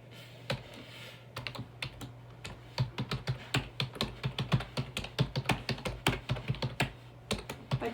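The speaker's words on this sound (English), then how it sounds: "So typing does feel a little heavy, keys kind of feel heavy." Keys clack in a quick, uneven typing rhythm on an old 2012 Toshiba desktop keyboard, close and fairly quiet over a low steady hum, picking up pace after a slow start.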